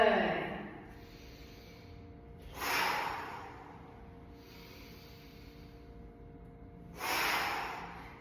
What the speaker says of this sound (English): Inhale up, come up on the toes, and exhale down